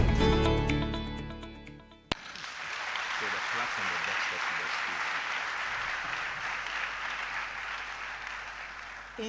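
Sustained applause from an audience at a high school students' awards ceremony, a dense steady clapping that starts abruptly after a sustained musical chord fades and continues loudly to the end.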